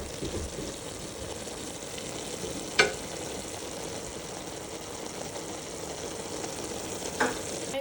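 Eggplant with peppers cooks on low heat in a pan, a soft continuous sizzle and bubbling close by, with a couple of brief utensil clinks.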